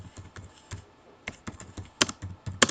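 Computer keyboard typing a title into a Word document, a run of quick, light key clicks in short bursts with brief pauses, close and fairly quiet.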